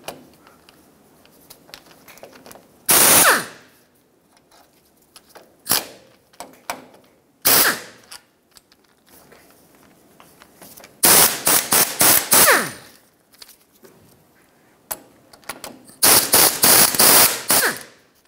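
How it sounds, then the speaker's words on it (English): Four 14mm ball joint bolts being unbolted on a 1996-2002 Toyota 4Runner, loud clustered bursts of rapid impact-wrench rattling separated by quiet gaps, each burst a short run of sharp hammering blows up close. "you actually can just unbolt these 4 14mm bolts and it'll separate right here"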